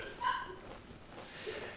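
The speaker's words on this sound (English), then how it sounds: "I'm sorry about the dogs barking in the background" A dog gives a short yip and whimpering bark in the background of a home, faint and brief, followed by a softer second yelp.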